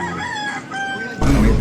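A rooster crows a long, clear cock-a-doodle-doo nearby, its wavering call rising and falling before a sudden burst of louder, broadband noise cuts in at the end.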